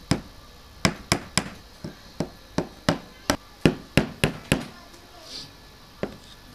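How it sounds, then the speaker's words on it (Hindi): A hammer drives a nail into wood on a homemade stand for cutting moulding with a cutter machine. About thirteen sharp, close strikes land in a steady rhythm, then one last lone tap after a short pause. "इससे नीचे हम एक कील लगा लेते हैं जिससे हमारी लकड़ी स्लिप ना हो"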